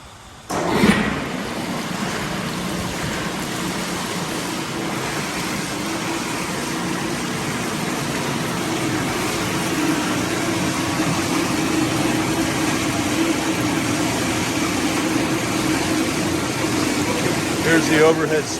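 A CMI vegetable dip tank washer and rinser with overhead sprays and a conveyor runs continuously, a steady mechanical hum mixed with rushing water noise that builds slightly over time, with a person talking over it.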